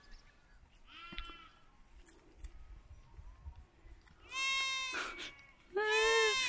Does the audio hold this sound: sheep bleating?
yes